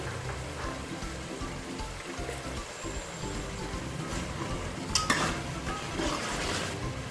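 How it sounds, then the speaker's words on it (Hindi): Mutton bhuna with cardamom and cinnamon frying in a pot, a dense continuous crackling sizzle close by, with a couple of brief utensil knocks toward the end. "गोश्त हमारा भुन रहे हैं।"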